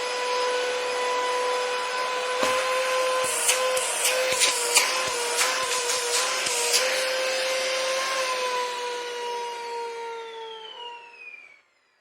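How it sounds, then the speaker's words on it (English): A Dyson DC40 vacuum cleaner's motorized brush roll runs, humming steadily with a high motor whine and scattered rattling clicks from the spinning brush, then winds down and stops. "on the DC-40 has a motorized brush roll. We need to see if that works."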